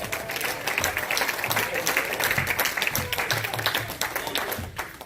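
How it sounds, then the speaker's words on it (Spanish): A church congregation claps for the Lord during a Spanish-language service, a lively, uneven patter of many hands that runs throughout, mixed with a voice and other sound beneath it. "Dale un aplauso al Señor por el té"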